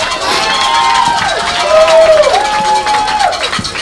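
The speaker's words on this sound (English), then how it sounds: "Let's give all of these Yellow Jacket legends a round of applause." A crowd at a Jeff Davis High School Hall of Fame recognition for Yellow Jacket legends cheers and shouts loudly, with rising, whistle-like yells standing out above a continuous roar of voices.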